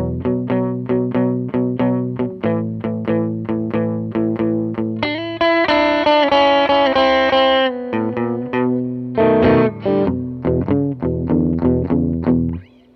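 Blues guitar turnaround in a beginner lesson, moving from the five chord to the four chord through an effects unit with light distortion and chorus; steady strummed and picked chords ring out loudly alone, with a sustained bright passage midway.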